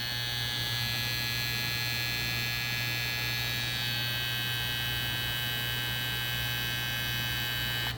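A Stylecraft Cyborg hair trimmer runs with a steady electric hum and a high whine, held close and constant throughout without any voices.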